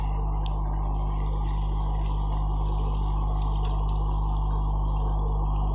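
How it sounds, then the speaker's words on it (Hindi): Two cups of water poured into a pot of mutton korma with salt, a steady close pour running for several seconds over a constant low hum of the stove. "2 कप पानी लिए वो डाल देंगे इसके अंदर।"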